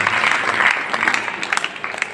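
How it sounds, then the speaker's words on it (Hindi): An audience applauds at an Arya Samaj Shri Ram Katha gathering, giving a dense, loud patter of many hands clapping that continues throughout and thins slightly toward the end. "एक बार जोरदार ताली बजाकर"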